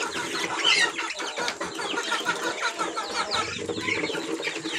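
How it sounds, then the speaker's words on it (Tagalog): Chickens and young chicks in a farm pen, a steady busy clucking and peeping that carries on without pause, fairly close, with no voices over it. "So ayan, gaganda po ng mga sisiw natin."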